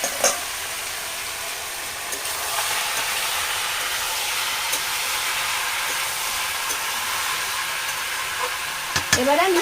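Pumpkin frying with cumin and coriander powder in a pan, a steady broad hiss of sizzling oil held throughout, with a few scraping stirs near the start and end, close and moderately loud.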